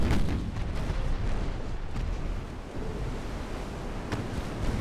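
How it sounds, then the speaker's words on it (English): A torpedo strikes a warship in Ultimate Admiral: Dreadnoughts, the naval video game, giving a low, rumbling blast that rolls on like heavy surf and settles into a steady wash of distant battle noise. "another torpedo hits"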